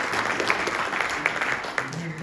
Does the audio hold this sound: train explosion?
no